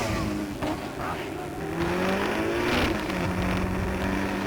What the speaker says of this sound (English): Mark Maloney driving that RX-7 late on the break